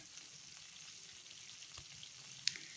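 Fish frying in hot oil gives a faint, steady crackling sizzle at close range, with one brief sharp tick near the end.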